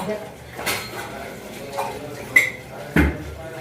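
A glass clinks as it is taken out among dishes in a home kitchen while tea is being made, with a few sharp knocks of glass and utensils standing out over quiet background voices.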